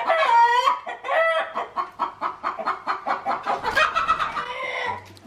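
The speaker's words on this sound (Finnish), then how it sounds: "Hyvä kana olet." Hen clucking up close in a repeated, steady series of short calls, loud and clear with no talk over it, the kind of sound heard from a laying hen kept with eggs.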